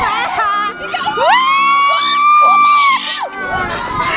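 Riders on an amusement ride scream and shriek loudly in a sustained high-pitched wail, with crowd shouting and excited voices mixed around it, close and intense throughout.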